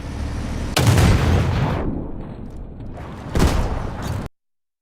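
A Russian 30 mm autocannon in War Thunder fires two heavy booming bursts, the first long and echoing and the second shorter. Both are loud and close, with no voices over them.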